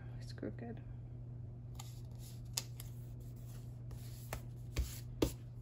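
Quiet close-up scratches, small ticks and a few sharp peeling clicks come from a planner sticker being peeled off and repositioned, over a low steady hum, with a voice at the start.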